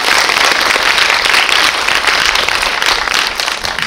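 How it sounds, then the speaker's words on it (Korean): An audience at a Busan International Film Festival event applauds, a dense, continuous wash of many hands clapping at once, loud and sustained throughout. "얼른 박수 한번 주십시오"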